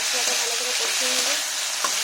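Frying sizzle of an onion, ginger, garlic and cumin paste cooking with potatoes, loud and steady with occasional scraping stirs throughout, no voices.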